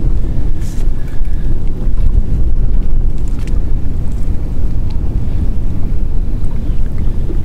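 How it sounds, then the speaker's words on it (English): Wind gusting outdoors at a high desert lake while bass fishing from a boat, a loud continuous rumble of buffeting across the microphone with no pauses, water sounds mixed underneath. "Wind picked up a little bit."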